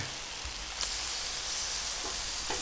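Chicken, steaks and catfish sizzle on a flat-top Blackstone griddle, a steady broadband hiss that holds loud and even throughout with a few faint clicks and taps of utensils.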